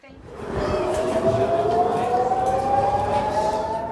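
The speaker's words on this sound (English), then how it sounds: "when the warning sirens sounded" A wailing air raid warning siren in Israel rises and holds a long steady howl, carried from a distance with faint background noise.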